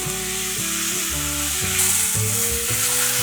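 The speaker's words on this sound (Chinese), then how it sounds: "现在放入马铃薯， 把马铃薯炒至半熟状态。" Potato and carrot pieces stir-fry in a hot pan, giving a steady close sizzle with a light crackle, broken by a regular rhythm of spatula scrapes and tosses.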